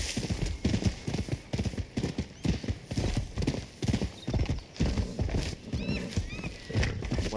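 Rhythmic hoof clip-clop of a horse moving at pace in a video game, with a couple of whinnies and a voice talking over it; busy, slightly synthetic game-like ambience.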